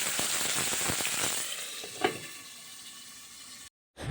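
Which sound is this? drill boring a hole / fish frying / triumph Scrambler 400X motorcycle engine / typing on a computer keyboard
fish frying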